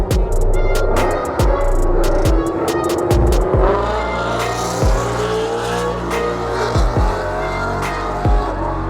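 Two Ford Mustangs, one red, drag racing down a strip: loud engines roaring and revving hard with rapid gear-change pulses and rising pitch, close and powerful throughout.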